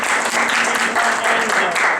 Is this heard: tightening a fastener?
no